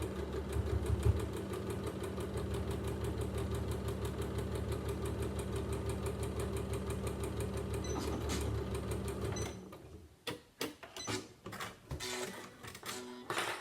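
Sewing machine stitching a quilted drawstring knitting bag, a steady rapid mechanical chatter running close and continuous for about nine seconds before stopping into a few short clicks and handling noises.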